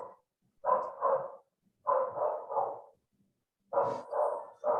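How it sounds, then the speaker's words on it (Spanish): A dog barks in the background in three bursts of two or three barks each, moderately loud and with pauses between them; no voices are heard. "Hay que hacerle CRISPR a ese perro que está ladrando atrás"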